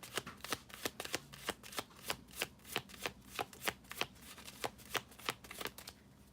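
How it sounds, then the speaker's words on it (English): Oracle cards being shuffled by hand, a steady run of about twenty crisp riffling snaps repeating at a brisk, even rhythm, close and alone with no voices. "let me pull my oracle cards first"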